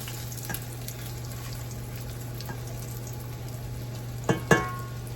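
Stuffed chicken breasts fry in a stainless steel pan with a faint steady sizzle over a low constant hum, broken near the end by two sharp clanks.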